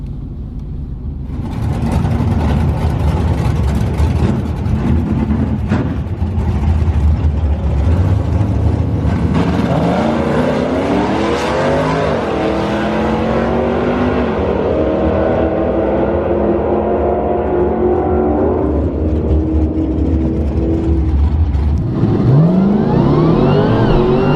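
A Dodge Hellcat Challenger from Speedy's Garage on a cold drag strip launches with a loud, sustained supercharged V8 roar, revs climbing through several gear shifts, then easing off and flaring again near the end.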